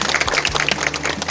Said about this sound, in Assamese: এটা হাত চাপৰি দিলোঁ সকলোৱে মিলি